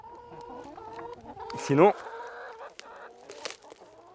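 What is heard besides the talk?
hens clucking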